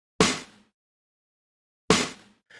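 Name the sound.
snare drum sample from a pop sample pack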